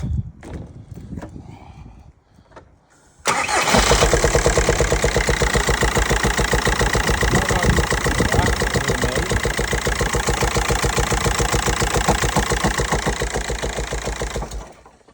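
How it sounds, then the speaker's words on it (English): A diesel car engine with a DPF delete cranks and catches, then runs loud and rough with a rapid knocking clatter, close by; a voice speaks briefly before it starts. "Let me fire it up for you and show you how bad it sounds."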